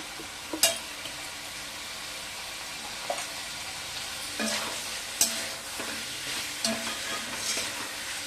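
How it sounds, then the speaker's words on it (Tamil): Food frying in a small amount of sesame oil in a pan, heard close up as a continuous hissing sizzle. Several sharp scraping stirs and utensil clicks break through it at irregular moments, with no voices. "கொஞ்சம் வறுக்க போகிறேன் என்னால் கொஞ்சமாக எண்ணெய் ஊற்றிக்கிறேன்"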